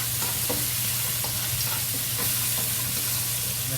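Green beans fry in a wok for a spicy dry-fried dish, with a dense, even sizzle that stays close and loud and a few light stirring knocks over a low hum.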